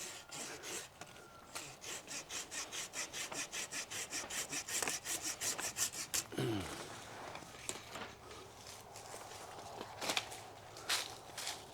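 Fig tree branch on a low cordon espalier cut back with a pruning saw, a fast rhythmic run of rasping back-and-forth strokes, then a rustle and a few more scattered strokes, close and fairly quiet.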